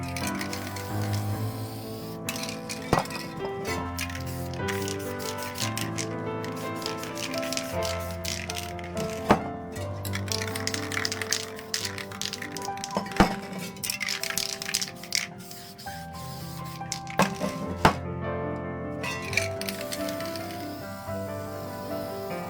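Small weights clack and tap onto a paper planet stencil laid over a spray-painted artwork: scattered sharp knocks and clicks at close range, with quieter handling rustle between them.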